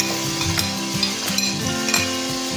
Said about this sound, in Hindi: अनियन तब तक फ्राई होते रहेंगे जब तक थोड़ा सा इनका ऑफ वाइट कलर ना हो जाए